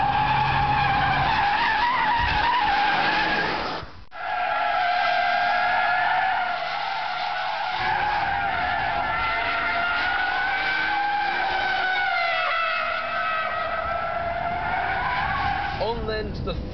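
Performance car, one of a Japanese and Porsche supercar comparison, sliding rally-style with smoking front tyres: long, loud, wavering tyre squeal nearly throughout, briefly cutting out once, with engine rumble beneath and a voice talking over it.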